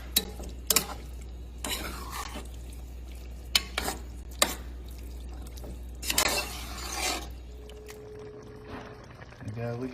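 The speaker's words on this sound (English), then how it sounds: "We'll add in our seasonings and we'll give it another mix" Seasonings being stirred into a pot of simmering chili, with scattered scraping and clinking spoon strokes over a low steady hum, and a person talking between the strokes.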